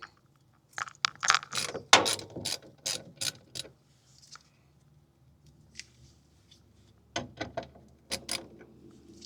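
A hand ratchet with a 10mm socket loosening the screws on an Onan 12.5kW generator's fuel filter compartment, giving rapid bursts of close clicking, a pause with faint taps, then more quick clicks.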